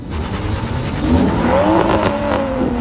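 A steady electronic tone, the get-ready signal at an SCCA ProSolo autocross start, sounds over the rumble of idling and revving engines nearby, a brief signal rising above the motor noise.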